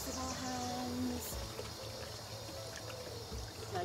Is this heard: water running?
yes